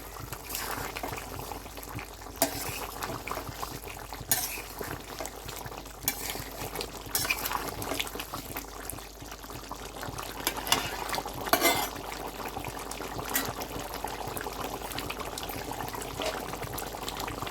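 Chicken curry bubbling in a pot as it simmers, with a steady low boil and occasional scraping stirs of a spoon, moderately quiet and close.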